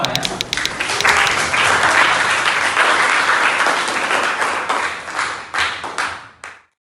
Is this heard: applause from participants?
yes